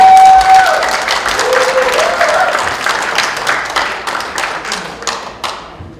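Crowd applause at a Korean book launch talk concert, loud at first and gradually thinning out, with distinct individual claps audible toward the end.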